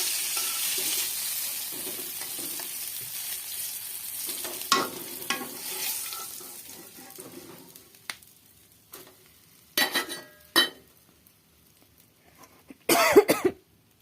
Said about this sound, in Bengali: এবার মাছটি হালকা করে ভাজা হয়ে গেছে, আমি এবার নামিয়ে নেব কড়াই থেকে।